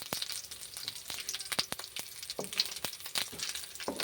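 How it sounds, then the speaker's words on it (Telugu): Peanuts fry in hot oil in a pan, a steady crackling sizzle broken by sharp clicks and scrapes as they are stirred, close and fairly quiet with no talking. "మధ్యలో ఇలా కలుపుతూ మనం దీనిని వేయించుకోవాలి"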